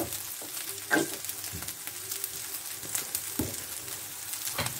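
Rice and kofta sizzle and crackle steadily in a pan as tomato sauce goes in, with intermittent scraping stirs and soft clicks of a utensil, close and moderately loud, no speech.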